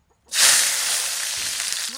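Garlic hitting hot oil in a wok (kadai) sets off a loud, steady sizzle after a brief quiet start and keeps crackling evenly to the end, with no talk over it.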